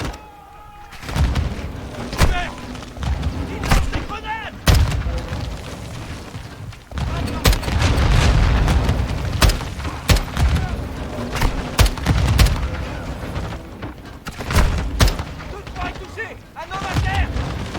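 Sustained gunfire and heavy explosions fill a Modern Warfare 2 campaign battle, with bursts of shots and booming blasts rolling close and loud throughout.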